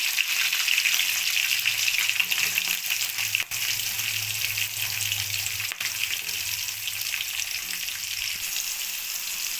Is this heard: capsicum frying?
yes